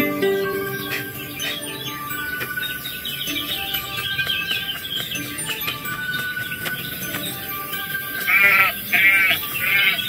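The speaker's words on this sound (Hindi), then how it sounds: "यही वो भेड़ है जिसके बारे में मैं बात कर रहा था।" Sheep bleating on a farm in a Hindi children's cartoon story, repeated wavering bleats near the end over a busy bed of music and bird chirps.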